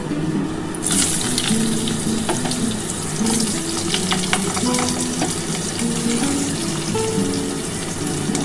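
Thinly sliced potatoes frying in a pan for a vegetable dish, giving off a steady close sizzle with occasional stirring clatter, alongside a running-water-like hiss throughout.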